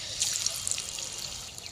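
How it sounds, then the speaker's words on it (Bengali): Pieces of bata fish sizzle in hot oil for pakoras, a close, steady hiss with small crackles and pops, no talking. "আমি একটা মাছ দিয়ে কিন্তু আমি তেলে ভেজে নিচ্ছি"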